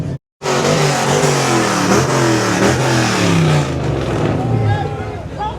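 A BMW car engine revs hard at a car meet, loud and close, roaring continuously and rising in pitch, with crowd voices shouting over it.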